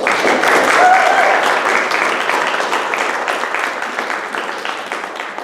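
Loud, close applause from a meeting audience honouring award recipients, steady full clapping throughout that slowly thins toward the end, with a faint voice briefly audible early on.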